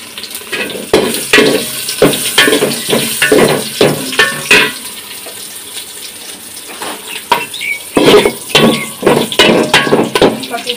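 Whole spices (bay leaf, clove, cardamom, black pepper and cinnamon) tempered in hot oil, giving a close, crackling sizzle broken by a series of sharp stirring and clinking bursts.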